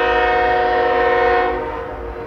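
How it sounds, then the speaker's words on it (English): BNSF freight train horn with an SD70ACe locomotive leading, a loud sustained multi-chime blast held steadily before easing off slightly toward the end. "My guess from the horn is it's an SD-70 Ace leading."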